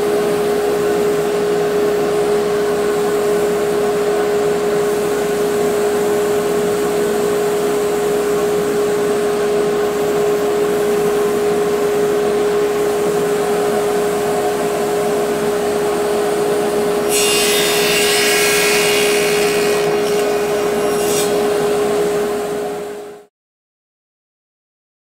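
Scrap wood being fed through a saw blade with a push stick, a steady loud motor whine and hum with a sustained tone, a brief rougher cutting burst near the end, then the machine cuts off abruptly.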